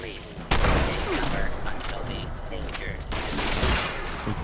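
Gunfire in the video game Fallout 76 rings out in a dense, sustained volley of loud shots over a noisy game backdrop, with fresh bursts at the start and again near the end.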